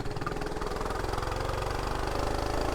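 A small kids' mini bike engine runs loud and close, with a continuous buzzing, knocking idle and no pauses.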